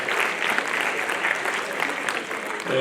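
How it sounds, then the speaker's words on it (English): An audience at a 2023 matric awards ceremony applauds, a dense, even patter of many hands clapping at moderate distance, with a voice entering as it ends. "can we give him also a nice round of applause?"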